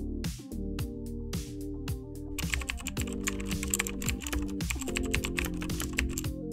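Rapid computer keyboard typing as a pipeline name is entered in Azure DevOps, a steady stream of close, crisp key clicks with a few heavier strokes, alone with no talk.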